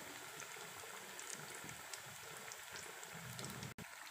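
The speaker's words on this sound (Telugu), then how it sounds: "ఇలా ముంచుకొని డీప్ ఫ్రై ఆయిల్లో వేసుకుందాం" Batter-dipped bread pakoda deep-fries in oil over a medium flame, giving a faint, continuous bubbling sizzle with small crackles throughout and no voices.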